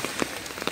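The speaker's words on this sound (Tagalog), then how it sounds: "Umuulan pa naman." Steady patter of rain falling on a surface, soft and continuous with a few slightly louder drops, no voices.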